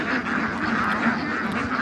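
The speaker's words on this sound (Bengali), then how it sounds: "নদীর মধ্যে চাষ করা হচ্ছে হাঁসের।" A flock of white Pekin ducks on a river farm quacks in a dense, continuous chorus of overlapping nasal calls, steady and fairly close throughout.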